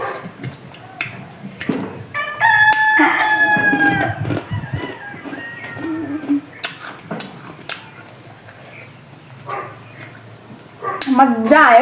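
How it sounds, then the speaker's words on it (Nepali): A rooster crows at home, a drawn-out call near the start and another at the very end, with a dog barking and people talking in the background. "कुखुरै कर रहेछ हाम्रो घरमा कुखुरै रहेछ"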